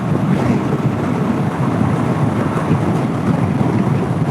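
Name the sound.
strong wind outdoors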